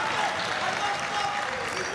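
Basketball crowd applauding during a game, a steady wash of clapping from the stands that continues evenly, with a commentator's voice over it.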